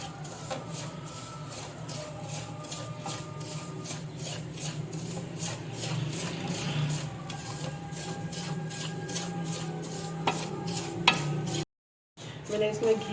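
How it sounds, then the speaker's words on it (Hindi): Semolina roasting in ghee in a pan for suji halwa, stirred steadily with a faint scraping rub over a soft continuous sizzle, a brief dropout near the end before the stirring resumes. "अब घी के साथ इसको अच्छी तरह भून लेंगे सूजी को।"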